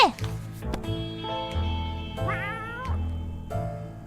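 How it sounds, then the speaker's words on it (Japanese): A cat meows several times from inside a bag in the video game 60 Seconds! Reatomized, with short rising and falling calls spread over a few seconds against a steady game music bed. "カバンが激しく揺れ出し、中から猫が出てきた"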